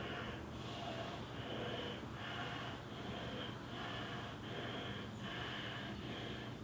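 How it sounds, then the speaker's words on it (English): Steady, deep breaths drawn in and out through the nose during a hip-opening, leg-strengthening workout, a rhythmic cycle of about five soft, airy inhales and exhales, close and continuous over low background noise. "Breathing in and out through the nose."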